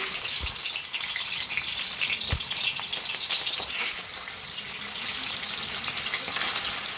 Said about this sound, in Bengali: খুব ভালো করে মাছগুলোকে ভেজে নিতে হবে কড়া করে